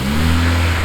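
Brief blip of a Mercedes CLA45 AMG engine with a K&N air filter, a short steady rev with clear engine tones heard up close, no talking.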